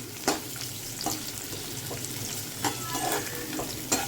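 Tomato with salt and four garlic cloves sizzle and fry in a pan, a steady crackle broken by several scraping stirs of a spoon.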